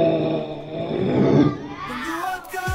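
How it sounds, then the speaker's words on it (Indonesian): Crocodile sound effect played at a children's literacy festival, a loud, deep rumbling roar lasting a couple of seconds before fading into faint background noise. "Buaya bunyinya seperti itu."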